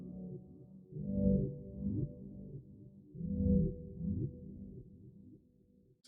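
A GarageBand bass synthesizer plays a low chord progression in slow swells, warm sustained notes rising and fading in two broad phrases, alone and close.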